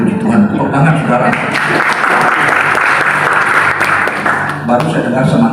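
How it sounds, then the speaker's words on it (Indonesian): Wedding guests at a church ceremony break into sustained, dense applause that fills the space, with voices mixed in beneath the clapping. "Tepuk tangan, saudara."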